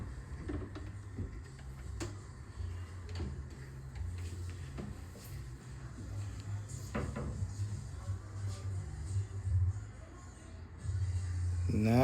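A kitchen cabinet drawer in a newly installed coffee bar is handled and its removable dividers are lifted and set back. Scattered light wooden knocks and clicks sound close up, with a louder rumble near the end.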